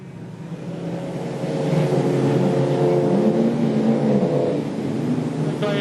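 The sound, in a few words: production sedan race cars accelerating at speedway race start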